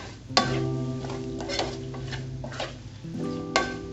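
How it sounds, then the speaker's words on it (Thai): Pineapple being stir-fried in a pan for sweet and sour shrimp, a spatula scraping and clinking against the metal in a few distinct strokes over a soft steady sizzle, close and moderately loud. "สับปะรดแล้วเราก็ ผัดสักพักหนึ่งนะคะ ให้น้ำสับปะรดมันออกนะคะ"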